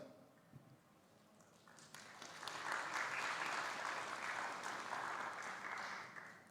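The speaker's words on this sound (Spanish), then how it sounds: "Recibimos también con un fuerte aplauso al señor doctor Antonio Bolívar." At an academic leadership workshop, an audience breaks into applause to welcome a speaker, clapping that swells after a quiet start and stays steady and moderately loud, with no talk.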